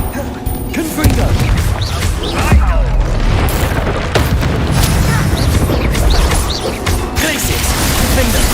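Confringo blasting-spell explosions in the game Hogwarts Legacy, a rapid string of booming blasts and crashes amid mechanical clatter and effects, with voices in the mix.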